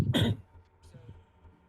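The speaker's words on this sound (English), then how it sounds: "I keep coughing." A person coughs and clears their throat once, a short rough burst up close, followed by quieter background noise and faint muffled sounds.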